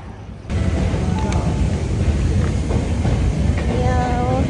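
A train rolls along the rails with a continuous rumble and clatter that starts abruptly after a brief quiet moment and stays loud and close, with faint squeals on top.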